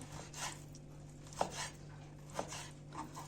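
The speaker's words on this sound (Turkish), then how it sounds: "Bu şekilde doğruyorum ince ince" A knife slices ingredients thinly for a Turkish chicken çökertme kebab, giving soft, faint rhythmic cuts with two sharper clicks against a board amid a quiet room hum, no voices.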